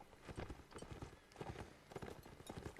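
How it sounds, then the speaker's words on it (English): Horse hooves clatter in an irregular clip-clop during a Mount and Blade cavalry line battle, with a crash and scattered thuds mixed into dense, fairly loud game noise and no speech. "Oh dear, crashed horse."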